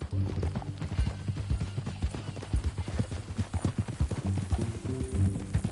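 Horse hooves clip-clop in a steady walking rhythm in Red Dead Redemption 2, fairly close, with a low background hum and faint voices now and then.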